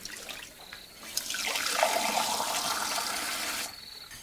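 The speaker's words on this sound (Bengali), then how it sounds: "চালগোলার বাটিতেই হাত পরিষ্কার করে নিয়ে জল ঢেলে দিলেন তিনি।" Water pours out of a bowl used for rice batter in a home kitchen, a steady rushing splash lasting a few seconds before it stops.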